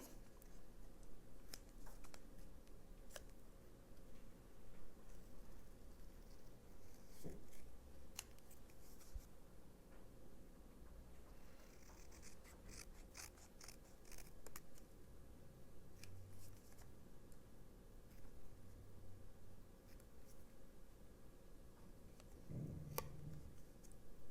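Scissors snip paper trimmed for a scrapbook page, faint irregular clicks and cuts scattered over a low steady room hiss, quiet and close.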